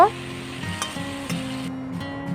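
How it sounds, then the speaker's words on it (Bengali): Potatoes and vegetable stalks fry lightly in a pan for a fish curry, a brief steady sizzle with a couple of soft stirring ticks, over a faint sustained tonal hum. "পাঁচ মিনিটের মতো জাল করে আলু আর ডাটা হালকা করে ভেজে নেব"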